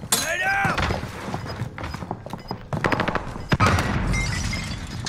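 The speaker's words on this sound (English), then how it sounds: "Grenade out!" A grenade thrown in Call of Duty Warzone on Rebirth Island, amid loud close bursts of gunfire, sharp cracks and impacts with a shattering edge, busy and continuous, with a faint voice in the mix.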